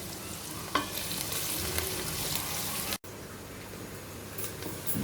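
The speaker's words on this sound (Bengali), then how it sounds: "পেঁয়াজটা আমি একটু নরম হওয়া পর্যন্ত ভেজে নিই।" Onions fry in a pan with a dense, continuous sizzle and occasional stirring scrapes, close and steady, cutting out for an instant partway through before resuming.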